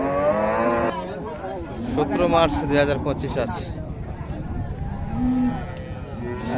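Friesian cows with calves at the Raniganj livestock market in Ghoraghat, Dinajpur, give one loud, close, drawn-out moo, followed by someone talking over a bustling market.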